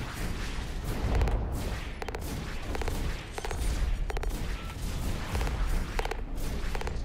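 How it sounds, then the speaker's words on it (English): Rapid bursts of mech gunfire and heavy booming shots in Hawken, repeated volleys with deep rumbling impacts, moderately loud and continuous with no talking. "There's somebody else shooting at me from somewhere."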